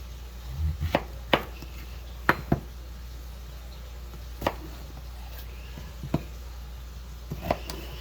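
Knife chopping through pork loin on a cutting board while portioning it into country-style ribs, a series of sharp, distinct chops spaced irregularly over steady background hum, near and clear with no talking.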